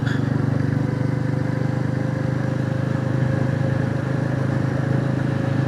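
A Royal Enfield Classic 350 motorcycle rides along country roads near Dunbar, its single-cylinder engine holding a steady, loud, even thrum with a low pulsing beat, with no speech and no change in pace.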